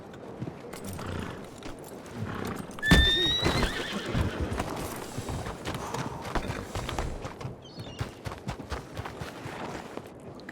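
A horse whinnies loudly partway through, among steady clip-clop hoofbeats and busy game background noise in Red Dead Redemption.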